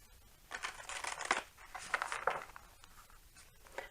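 Tarot cards being shuffled by hand in a few quick, soft riffling bursts with crisp paper flicks, close and fairly quiet, with no talking.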